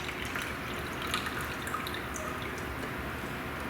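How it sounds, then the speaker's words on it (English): Water is poured into a measuring cup during a kitchen science lab, a soft continuous trickle and splash heard up close with no talking. "we are going to be pouring 100 milliliters of water into our measuring cup"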